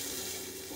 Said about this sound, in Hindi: अब मैं इसमें डालूंगी मशरूम,